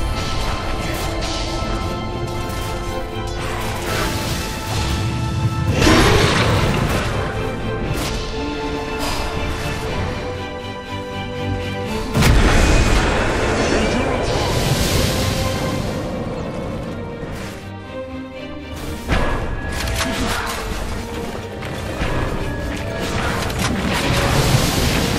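Dota 2 battle around a tower under attack, dense and loud game audio with booming impacts, crashing hits and clashing effects layered over a continuous combat din, with no voices.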